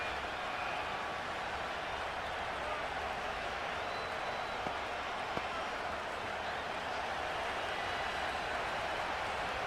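A stadium crowd roars steadily in the Madden 25 football game during a Saints vs Bucs matchup, a dense, constant wash of distant cheering with no break across the whole stretch.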